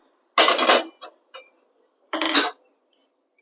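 Two short metallic clatters as a pan is set down on a gas stove, with a few small clicks between them in an otherwise quiet room.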